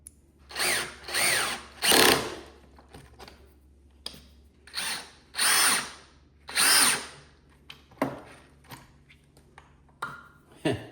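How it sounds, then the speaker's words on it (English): A power drill with a hex bit whirs in several short bursts, each a second or so, driving bolts into a wooden workbench, with brief pauses and faint clicks between runs, close by. "I'm going to see if I can automate that with my power drill."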